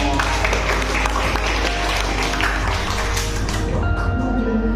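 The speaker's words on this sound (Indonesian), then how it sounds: "Boleh tepuk tangan dong." Steady applause fills a high school civics classroom during a lesson on corruption, a dense, continuous wash of many hands clapping at once with a little background chatter.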